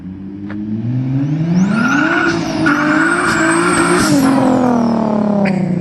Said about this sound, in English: Jerry's VQ Miata. Look at all that smoke he left